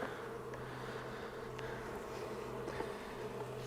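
Honey bees hum inside a beehive after winter, a steady, fairly faint drone that never stops, with no voices over it.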